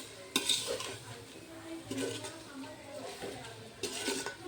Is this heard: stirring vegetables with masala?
yes